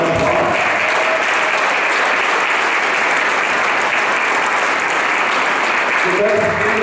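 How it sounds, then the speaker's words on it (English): Dense, steady applause fills the room from a hall audience at a Rotary minstrel show, loud and continuous throughout, with faint voices briefly surfacing at the start and end. "Give them all a round of applause."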